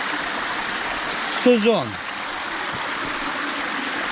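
A clear forest stream in the autumn Carpathians gives a steady, even rush of flowing water from start to finish, while a voice speaks briefly in the middle.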